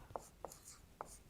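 Marker writing on a whiteboard during a statistics lesson, a few short separate scratchy strokes, faint and close, with no talk.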